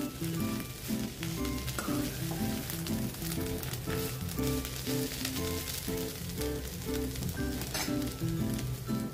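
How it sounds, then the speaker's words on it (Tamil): Ghee sizzles and crackles in a pan with drumstick (moringa) leaves, a close, steady frying sound with faint stirring and no talking. "இப்ப எடுத்து வச்ச நெய்யை போடணும்"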